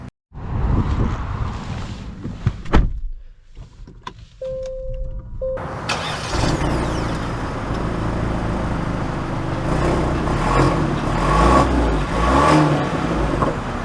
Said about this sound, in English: we are going to set off in the GV80